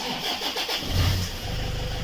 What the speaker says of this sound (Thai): วันนี้เรามาสตาร์ทรถดูนะครับ